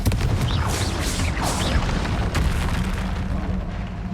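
A loud Confringo blasting-spell explosion in Hogwarts Legacy, a heavy booming blast with crackling bursts that rolls on in a sustained roar lasting several seconds.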